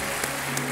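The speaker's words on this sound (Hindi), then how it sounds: "बहुत ज्यादा तालियां बज गई" Studio audience applause on the set of the quiz show Kaun Banega Crorepati, a brief steady wash of clapping with a low sustained tone running underneath.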